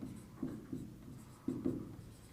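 Chalk or marker writing elements on a board, a few short scratchy strokes in two clusters, quiet and close against a faint room background.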